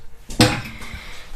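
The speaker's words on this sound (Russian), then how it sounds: "Достаем сковороду." A frying pan is pulled from a kitchen cupboard, a single quick clatter of metal against the cupboard with a short rattle, close and clear, no talking.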